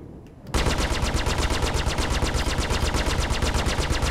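Rapid automatic gunfire in the space game Star Citizen, a dense, loud, evenly spaced burst that starts abruptly after a short quiet moment and continues without pause.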